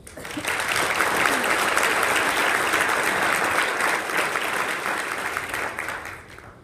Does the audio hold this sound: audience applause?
yes